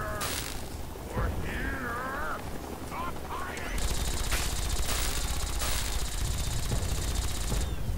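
Automatic weapon fire in Fallout 3 at an Air Force base, sustained bursts of rapid shots over a noisy backdrop, louder and denser in the second half of the clip.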